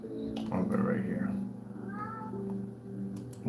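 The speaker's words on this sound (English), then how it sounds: "Yep, meow." A cat meows in a drawn-out, wavering call, then gives a shorter second meow a moment later, fairly close and moderately loud against a quiet indoor background.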